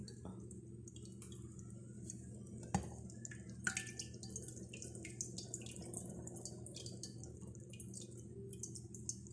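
Water is poured over growing mung bean sprouts, dripping and trickling steadily against a low background hum, with a couple of sharper splashes.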